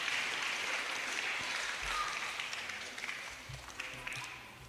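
A church congregation at a Kikuyu-language PCEA service applauds with steady, dense clapping that carries through the whole stretch and fades slightly toward the end, a roomful of hands at moderate distance.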